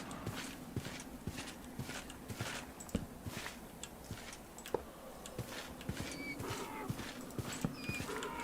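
Hooves clip-clop steadily from a horse in a video game, a close, even walking rhythm of dry knocks over a constant low background hum.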